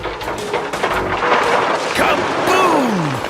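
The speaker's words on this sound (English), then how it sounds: "I'm dumping the rocks and dirt to hold the tracks in place" A machine dumps rocks and dirt as ballast onto a railway roadbed, making a loud, sustained rumbling crash of tumbling stone with a voice and tonal effects over it.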